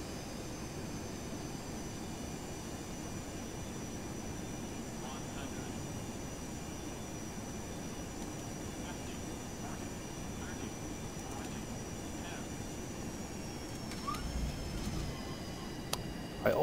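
An airliner landing in the X-Plane 11 flight simulator gives a steady, even engine and rolling roar with faint whining tones, continuous throughout and growing slightly rougher near the end as the wheels meet the runway.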